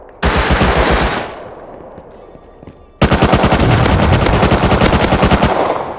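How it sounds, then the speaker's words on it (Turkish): MP5 submachine gun fire in the video game Rust, two loud rapid automatic bursts, the first about a second long with a fading tail, the second sustained to the end. "MP5 sıkıyorlar."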